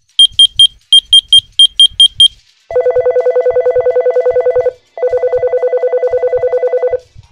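A telephone in the Surgeon Simulator video game dials a quick run of about a dozen beeping tones, then rings with two long electronic trilling bursts, loud and clear with no voices.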